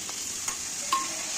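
Vegetables such as cabbage, cauliflower, potatoes and tomatoes being stirred together in a pan for Mumbai-style pav bhaji, with a steady faint sizzle and a couple of soft scraping strokes.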